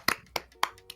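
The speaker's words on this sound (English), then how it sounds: "Applause." A few scattered hand claps, four sharp separate slaps spread over a second, close and fairly quiet, with no voices, celebrating after a Battle for Bikini Bottom speedrun race.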